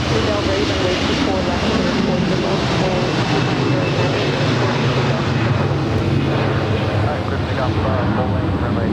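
An Airbus A321 departs LAX with a loud, steady jet roar that holds throughout, while voices talk over it.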